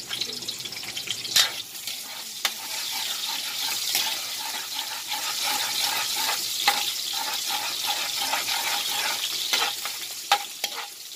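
Onion frying in oil left from frying tofu, a steady close hiss of sizzling with occasional scraping stirs and spoon taps, loud and continuous, no voices.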